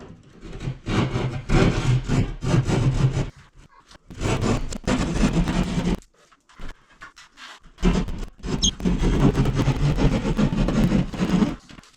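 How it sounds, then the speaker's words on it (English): A hand drywall saw cuts an access hole in a ceiling beside a 120-volt line, giving close, rasping scraping strokes in several rough bursts separated by short pauses. "I wanted to cut an access hole to make sure that my drywall saw didn't go through the 120 volt right here"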